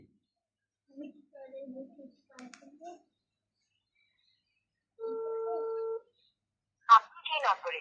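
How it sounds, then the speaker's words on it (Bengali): A phone call placed to an irrigation pump control device rings once with a steady electronic tone, preceded by soft chirpy electronic beeps and followed by a burst of busier chirping tones, all fairly quiet. "আমি পুনরায় নাম্বারটিতে কল দিই।"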